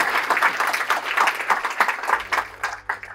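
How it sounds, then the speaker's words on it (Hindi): An audience of several hundred packs an orientation hall and claps steadily for about three seconds, the applause loud and close before tapering off. "ताली बजाओ यार ढंग से."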